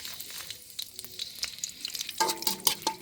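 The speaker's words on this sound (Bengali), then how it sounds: "ভালো করে ভেজে নেব।" Dried red chillies frying in oil in a wok, with a soft crackle that grows into a louder, busier sizzle with sharp pops toward the end, close up with no talking.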